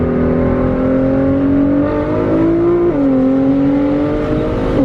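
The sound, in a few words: Nissan GT-R car accelerating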